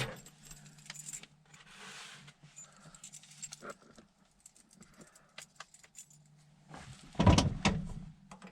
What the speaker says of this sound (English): There are the keys.